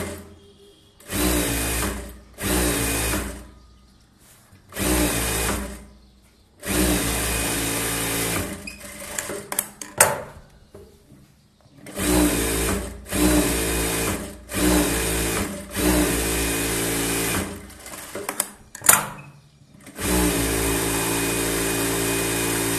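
A tailor's sewing machine stitching a boat-neck princess blouse, loud close bursts of rapid whirring stitching broken by short pauses, repeating across the stretch with no speech.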